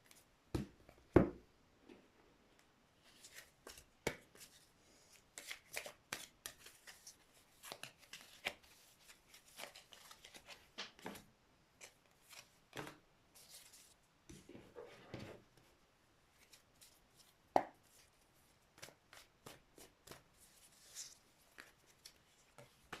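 Tarot cards are shuffled softly, giving quiet bursts of papery flicks and taps scattered unevenly in a hushed room, with no voices.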